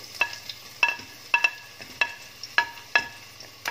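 Onions frying in a pan for a spaghetti aglio e olio, heard as a soft, steady sizzle broken by about seven sharp scrapes or clinks of a utensil against the pan at fairly regular intervals.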